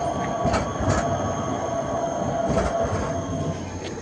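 A Prague tram rolls past on a street in Praha 7, a steady nearby rumble of wheels on rail with brief metallic squeals rising over it, no voices.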